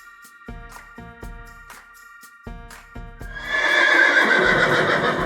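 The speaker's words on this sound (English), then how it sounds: "This is a horse." A horse neighs loudly and close, opening with a series of sharp clopping hoof beats and ending in a long, shrill, quavering whinny.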